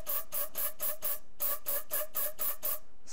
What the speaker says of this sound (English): I spray from both ends,